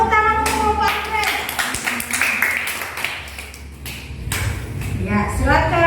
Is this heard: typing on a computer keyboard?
no